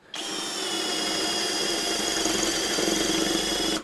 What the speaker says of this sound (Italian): Avete sentito il, il cigolio? Lo stridio? Stavo rovinando la punta.